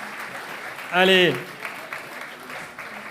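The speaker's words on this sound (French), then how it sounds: "avec vos applaudissements, s'il vous plaît" Audience applause at a business awards ceremony in Cantal, France, honouring the prize winners: steady clapping throughout, with a voice briefly calling out over it.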